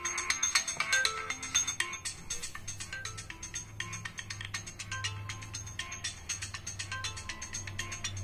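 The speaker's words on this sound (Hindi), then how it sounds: "मैंने यहाँ पे डांस की रिंगटोन सेट कर दी" A dance-style ringtone preview plays from an Oppo Neo 7 smartphone, a busy repeating electronic melody with rapid percussive beats and a steady low bass line, heard alone at moderate volume.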